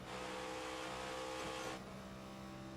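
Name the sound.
race cars driving at Charlotte in the video game iRacing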